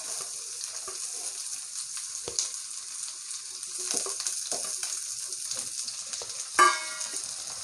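Onion and garlic sautéing in sesame oil in a pan, a continuous bright sizzle with occasional stirring scrapes and a brief louder burst near the end.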